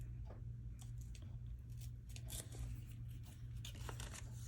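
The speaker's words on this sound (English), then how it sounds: "I'm gonna tear this top here" Paper being torn by hand for a collage piece, a series of short crisp ripping and crinkling bursts, close and quiet over a low background hum.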